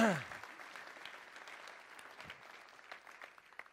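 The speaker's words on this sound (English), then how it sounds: "So give a round of applause to Ray Steele right back there." A congregation at a church service gives a quiet round of applause for a newspaper publisher. The clapping sounds soft and somewhat distant, with a brief voice at the very start and scattered claps continuing to the end.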